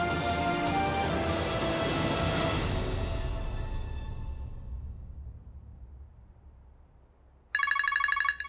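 A phone rings with a bright electronic tone in a short burst near the end, after fading music and a quiet pause.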